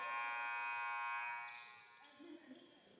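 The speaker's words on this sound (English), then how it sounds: "A lot of buzzers going off for whatever reason." A loud, sustained electronic buzzer tone holds steady at a basketball game, then fades out, followed by faint scattered thumps and crowd noise in a large indoor space.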